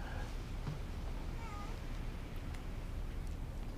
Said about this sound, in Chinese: 麻烦你代为照顾猫咪